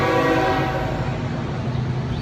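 A train rolls past on tracks near Marietta, outside Atlanta, its horn sounding loudly over a steady, heavy rumble throughout.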